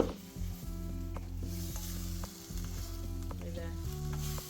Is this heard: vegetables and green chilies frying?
yes